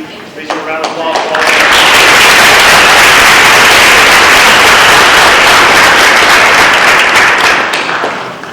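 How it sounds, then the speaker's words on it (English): Applause at a school board meeting: a few scattered claps build quickly into loud, sustained clapping from the room, which fades slightly at the end. "Please give a round of applause."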